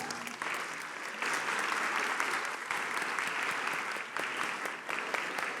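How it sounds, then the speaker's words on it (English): Applause from an audience at a school board of education meeting honoring student performers, steady clapping that swells in bursts and carries through the whole stretch at moderate distance. "Nice round of applause"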